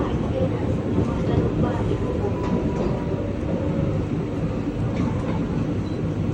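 A train at Madurai Junction railway station produces a steady, loud rumble of rolling wheels and carriages with faint clanks, continuous the whole time and heard close by.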